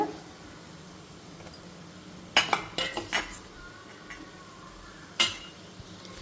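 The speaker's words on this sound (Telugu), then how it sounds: "శనగపిండి వేసి మళ్ళీ కలుపుతున్నాను" Green chilli fry gets gram flour stirred in, a metal spoon clanking and scraping against the pan in a few bursts, with a quiet gap between clusters and low frying noise beneath.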